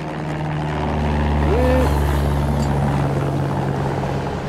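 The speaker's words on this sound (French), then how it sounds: "Là, il va venir nous voir, l'avion, là." A fisheries surveillance airplane flying overhead above a scallop fishing boat, its propeller drone steady and swelling slightly as it passes, over a low boat engine hum, with faint voices underneath.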